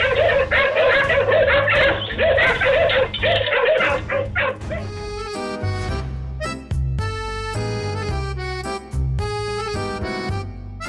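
Dogs bark and yip loudly in the first few seconds, a close, excited cluster of barks, before music takes over and carries on to the end.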